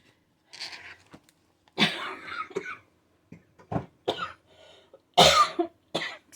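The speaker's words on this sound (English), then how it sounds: "And it's just a very dry cough now." Several dry, hacking coughs come in separate bursts, close and fairly loud, with short quiet gaps between them.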